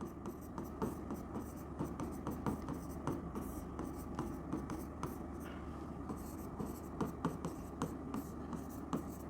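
Chalk or marker scratches and taps against a classroom board in quick, irregular strokes, faint and close, with no voices over it.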